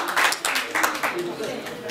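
Audience clapping at an Algerian national photography salon closing ceremony in Merouana, Batna, a short burst of scattered hand claps under someone speaking over a microphone.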